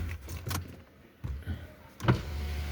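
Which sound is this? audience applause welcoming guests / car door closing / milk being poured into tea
car door closing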